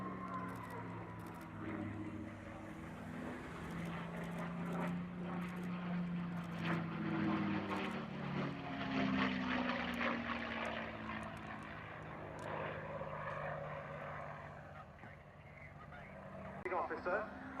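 A Mustang fighter's propeller engine drones steadily through a flying display at RAF Cosford, swelling and fading as it passes, with a voice talking over the whole pass.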